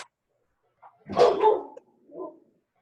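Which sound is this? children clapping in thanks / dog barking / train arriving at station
dog barking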